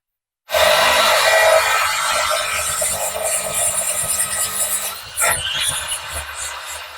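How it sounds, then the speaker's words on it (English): Percussion drill boring a hole in concrete for a glass stair railing clamp, a loud continuous grinding rasp that starts abruptly and wavers as the bit is twisted and shaken, with a brief dip near the end. "When drilling the concrete hole, I advise twist and shake the percussion drill to make it easier to drill"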